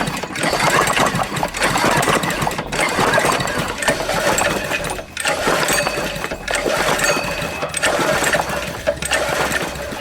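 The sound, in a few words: pulling small engine starter cord repeatedly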